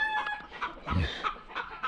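Hens clucking in a steady, busy chorus, with a few sharper squawks poking through the ongoing chatter, fairly close.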